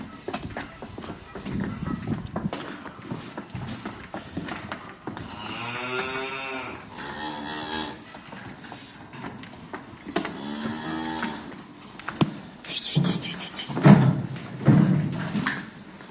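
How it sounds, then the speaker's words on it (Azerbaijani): Cows arrive at a farm, with several drawn-out, resonant moos at close range, rustling, knocking and hoof-like clatter between them, and louder shuffling toward the end. "Və inəklər gəldilər."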